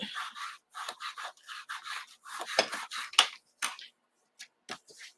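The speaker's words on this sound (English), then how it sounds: "we're just going to burnish that a bit" A paper die-cut card is burnished by hand, giving a series of quick close rubbing and scraping strokes in uneven bursts with short pauses, fairly quiet and without talk.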